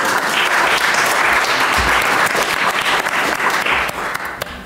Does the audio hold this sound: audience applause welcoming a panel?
yes